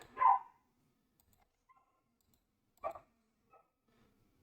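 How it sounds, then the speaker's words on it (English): A puppy barks indoors during a card game session, one sharp bark near the start and a second shorter bark about midway, close to the microphone in an otherwise quiet room. "I'm sorry if you can hear my puppy."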